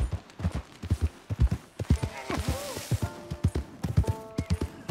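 Horse hooves clip-clopping in Red Dead Redemption 2, a loud, close, steady walking rhythm of hoof strikes, with a horse whinny in the middle and a voice speaking briefly.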